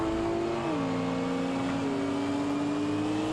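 A GT250 championship race car drives past on the track, its engine a loud, steady drone with a slight pitch drop as it goes by.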